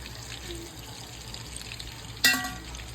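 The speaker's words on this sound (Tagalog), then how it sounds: "ituturo ko sa inyo ang pagluto natin na masarap na pritong espada" Espada fish (daing) fries in a pan with a soft, steady sizzle, then a sudden louder crackling burst near the end that slowly eases back.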